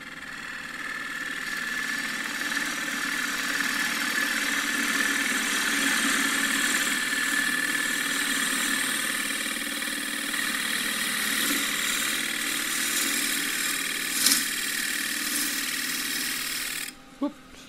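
Wood lathe running steadily as a quarter-inch bowl gouge takes a shear cut across the grain of a cross-grain box blank, a continuous whirring hum with faint scraping that holds for most of the stretch before cutting off abruptly near the end.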